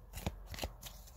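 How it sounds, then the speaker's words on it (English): Tarot cards being shuffled by hand, a few soft papery riffles and slaps in quick succession, close and quiet with nobody talking. "I've shuffled a couple of times"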